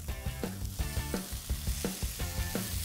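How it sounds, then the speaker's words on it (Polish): Close, continuous sizzle and crackle of steak searing in a hot pan, busy and unbroken throughout. "Stek należy obsmażyć ze wszystkich stron na brązowo."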